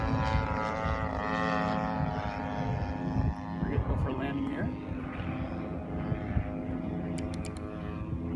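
A propeller-driven Decathlon airplane comes in for landing, its engine drone steady and fairly close, with a slight shift in pitch midway and people talking over it.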